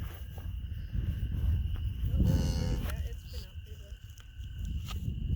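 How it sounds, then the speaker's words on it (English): A cow with her newborn calf lows once in a long, loud moo on a farm, over rustling and insect noise, with people talking nearby before and after. "Now, I just want to see the cow."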